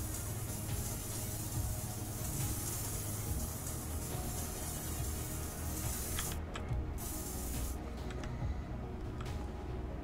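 Steady hiss of a spray paint can in the game SuchArt: Genius Artist Simulator, a continuous airy spray running for several seconds over a low background hum, briefly thinning near the end.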